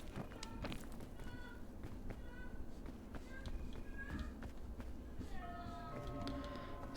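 A cat meows in the mountain-climbing video game PEAK, with several short, high calls scattered over a busy background of running footsteps and game noise.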